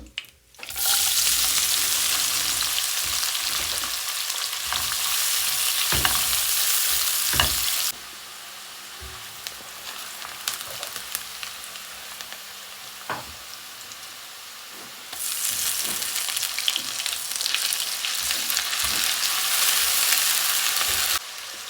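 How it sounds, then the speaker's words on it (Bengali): Chopped onions frying in hot oil for a vegetable curry, a loud steady sizzle that drops away midway for several seconds of quieter crackle with occasional clinks, then surges back to full strength. "এখন এই তেলের ভিতরে হচ্ছে আমি পেঁয়াজ কুচি দিয়ে দেবো"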